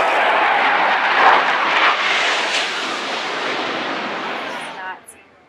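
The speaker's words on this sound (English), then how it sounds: "We have two Russian Su-24s currently conducting multiple passovers" Two Russian Su-24 jets make low passes near a US Navy destroyer at sea, their loud, broad engine roar sweeping past and then fading, with voices briefly heard over it.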